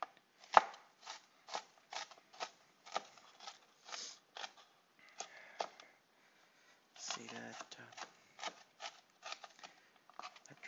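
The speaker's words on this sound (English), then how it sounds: "So when you are chopping and cutting, try to make uniform cuts all the way throughout as much as you can." Ingredients for chicken tikka masala are chopped with a knife on a board, a close, evenly paced series of crisp knocks with a brief pause midway and a softer rustle.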